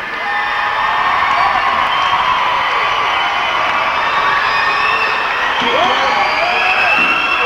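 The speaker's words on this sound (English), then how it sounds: "Give yourselves a round of applause" At a concert at the Shoreline Amphitheatre in Mountain View, California, in 1997, a large crowd roars with loud, sustained cheering, applause and high whoops that fill the whole stretch.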